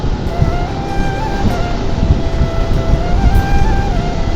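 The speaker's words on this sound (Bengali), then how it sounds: "সেই বাতাস হচ্ছে।" Strong wind roars in a dense, continuous rumble past a motorbike rider on a rural road in Bangladesh, loud and close throughout, with a faint engine tone running underneath.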